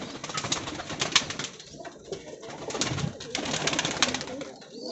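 Pigeons in a cage cooing close by, with repeated soft throaty coos and bird calls over a faint background, some wing or cage rustling, and no talk.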